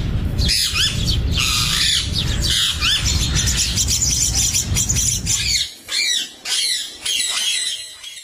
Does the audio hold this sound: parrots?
yes